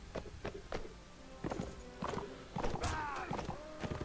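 Horses in the Mount&Blade Warband video game clip-clop with rapid hoofbeats in irregular bursts, mixed with battle thuds and a brief whinny, moderately loud and close.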